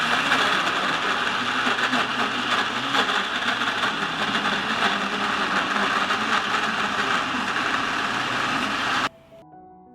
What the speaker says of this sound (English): I put the washed and clean strawberries in a blender.